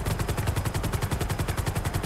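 Rapid automatic gunfire in a GTA 5 roleplay game, a dense, loud, evenly pulsing burst of shots that runs without a break.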